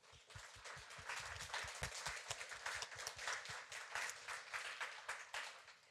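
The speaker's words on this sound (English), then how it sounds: "giving our presenters a round of applause" An audience at an evening policy event applauds the presenters with sustained, even clapping from many hands filling the room for several seconds, without voices.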